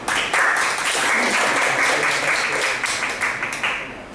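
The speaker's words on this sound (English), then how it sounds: "I would like you to give a big round of applause." An audience at a Toastmasters club meeting claps steadily, a dense, loud round of applause lasting a few seconds before gradually thinning out.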